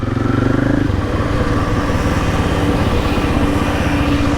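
A KTM 500 motorcycle ridden on a solo unsupported trip toward Cape York produces a loud, steady engine drone with a rapid thumping pulse and wind rush, and there is no talking.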